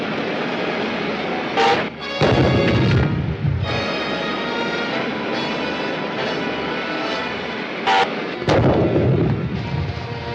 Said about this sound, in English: Man the ray gun and blast them.